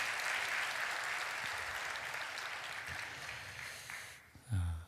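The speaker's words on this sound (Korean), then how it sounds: "우리 박수 한번 해주세요" A church congregation claps for two members, a sustained wash of distant applause that gradually thins out and fades near the end, with a brief low thump at the close.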